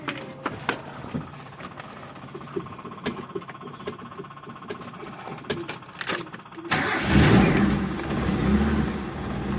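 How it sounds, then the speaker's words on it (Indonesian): A Daihatsu Zebra Espass car engine turning over, with a ticking, rhythmic cranking and idle at first, then swelling abruptly into a louder, steady running roar while warming up, close by. "Ini mesin mobil sudah hidup,"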